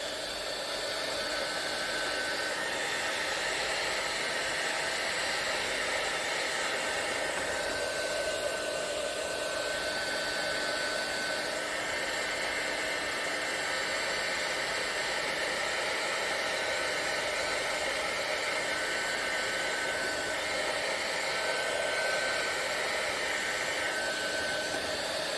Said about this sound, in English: So I'm going to reach for my heat tool.